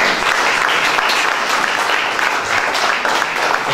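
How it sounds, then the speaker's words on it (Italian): A large crowd at an art exhibition opening in Cilento, Italy, claps steadily and loudly throughout, a dense, continuous wash of applause with no pauses. "al professore Dalisi, a cui chiedo un applauso"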